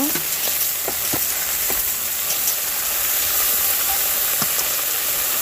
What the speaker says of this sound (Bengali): অল্প পরিমাণে একটু জল দিয়ে দিচ্ছি দিয়ে আবার একটু নাড়াচাড়া করে নেব